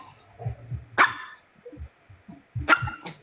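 A dog barks twice close by, two sharp barks about a second and a half apart, with soft background sounds in the quiet stretch between them.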